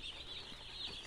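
Broiler chicks on a farm peep in a steady high-pitched chorus, a batch of about 125 newly arrived birds chirping continuously and fairly close, with no talk.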